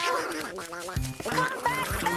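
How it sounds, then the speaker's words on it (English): A cartoon duck quacks several times in quick, nasal, exaggerated bursts, close and loud, with no clear speech over them. "That's a duck. That's a nice ducky."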